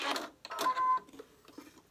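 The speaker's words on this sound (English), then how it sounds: "I need to slow down my machine. Apparently I'm going too fast" A sewing machine stitches a hassock cover in a short, quiet run of rapid mechanical whirring that fades into fainter clicks.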